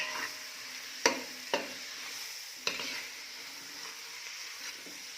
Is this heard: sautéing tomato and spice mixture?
yes